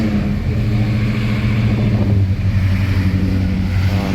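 A classic car pulls away from an outdoor classic car show, its engine giving a loud, low steady rumble that swells slightly as it accelerates. There is no talking.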